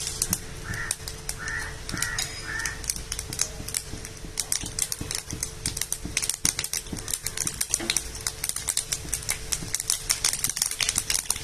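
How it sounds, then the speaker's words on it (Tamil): Mustard and fenugreek seeds spluttering in hot oil for coriander seed rasam, a dense run of sharp close pops and crackles, with some faint background noise. "கடுகு வெந்தயம் நல்லா பொரிஞ்சதுக்கு அப்புறமா கறிவேப்பிலை ஆட் பண்ணிக்கலாம்"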